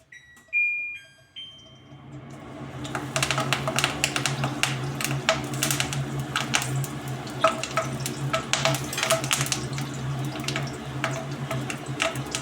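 Curry leaves fry in hot oil in a pan, a brief sharp crackle at first, then a dense, continuous sizzle with rapid spattering pops, close and fairly loud.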